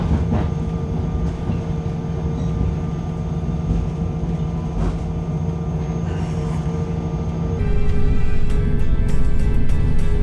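Steady rumble and rhythmic clatter of a new train heard from inside a carriage, continuous throughout and growing slightly louder near the end.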